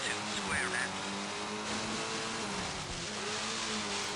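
Rally car engine in Colin McRae Rally on PC, New Zealand stage, droning and revving steadily with harmonic engine tones, loud and continuous throughout, with a voice talking over it.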